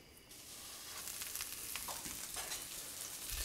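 A branzino fillet seasoned with salt and pepper fries in a pan, giving a steady, close, crackling sizzle with no voices.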